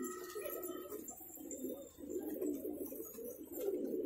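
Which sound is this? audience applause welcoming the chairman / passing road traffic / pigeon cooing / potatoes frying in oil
pigeon cooing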